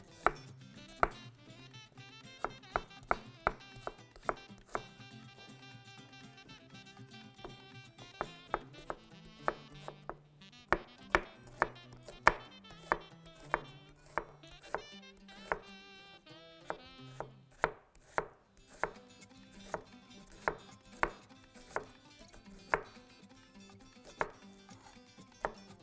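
A kitchen knife chops onions on a board in a steady run of crisp, close, sharp knocks. The rhythm pauses briefly in places, and no one speaks.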